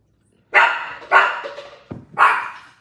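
A dog barks three times in quick succession, close and fairly loud, with a short yip between the second and third barks.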